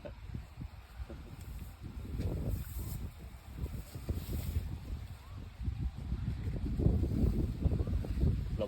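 Wind gusts across a sunflower field at Khao Yai, Thailand, producing low, uneven rumbling buffets against the microphone that swell and ease throughout.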